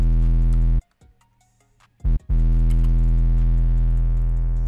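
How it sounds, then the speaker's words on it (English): A fuzzy, distorted 808 bass in a glitchcore-style hyperpop beat, with long sustained low notes that cut out briefly near the start and then return with a short stutter before holding on. "And then I added an 808, so yeah, I used the fuzzy 808,"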